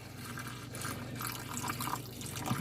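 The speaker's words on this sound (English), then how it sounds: "I'm going to add probably 2 cups of water in here." Water poured into a pan holding a turkey loin, a soft continuous splashing trickle with bubbly pouring texture, faint and close, fluctuating slightly throughout with no talk.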